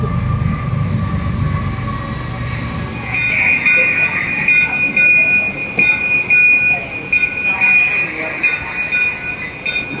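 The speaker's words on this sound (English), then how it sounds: "we're going to end with a little model train over here" A little model train ride at the New York State Fair rolls along with a steady rumble and a long, thin metallic squeal, while people talk nearby.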